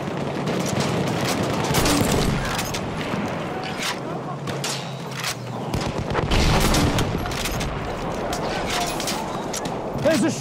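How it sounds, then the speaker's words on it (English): Enemy machine gun firing in Battlefield 1 on the Zeebrugge map, dense rapid bursts of automatic fire mixed with steady battle noise and booms, with voices talking over it. "There's an enemy machine gun!"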